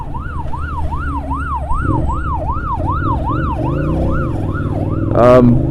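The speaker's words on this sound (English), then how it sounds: "that looks like an ambulance" An ambulance siren wails in a steady rising-and-falling cycle as it passes close by, loud over traffic rumble on a city street in Cape Town, with a sharp louder burst near the end.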